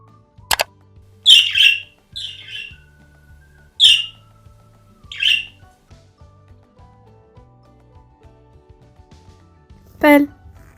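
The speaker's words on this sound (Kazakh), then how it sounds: "Тоты қыз." A parrot squawks in several short, shrill bursts spaced a second or two apart, loud and close, with a brief spoken word early on and another sharp call near the end.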